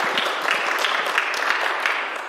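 People gathered at an annual business meeting applaud in thanks, a steady patter of many hands clapping together at moderate loudness, continuous and without speech over it.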